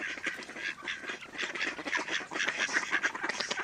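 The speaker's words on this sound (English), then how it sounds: "This is probably where all the bow pond ducks came." Several ducks quack and honk continuously at King's Pond, overlapping calls from a busy flock at close range, with no voices.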